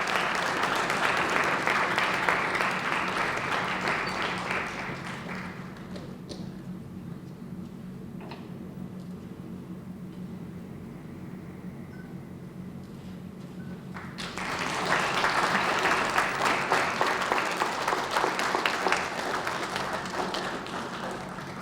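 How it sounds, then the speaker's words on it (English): An audience at a jersey retirement celebration applauds loudly for several seconds, falls quiet, then breaks into a second strong round of clapping. "Give her a round of applause"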